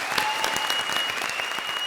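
Studio audience of a comedy television show applauding, dense and steady clapping throughout a short burst, loud and close with no voices on top.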